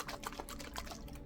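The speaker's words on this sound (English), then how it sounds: "You pour the water in there with the granulars and you shake it" Bottle of hydroponic nutrient granules dissolved in water being shaken, giving a steady wet, swishing slosh throughout, fairly quiet and close, without talk.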